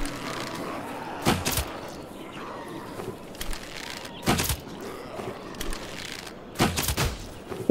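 Sharp gunshots ring out in a zombie survival video game, several loud bursts spaced a few seconds apart, some in quick pairs, over a quiet ambient background.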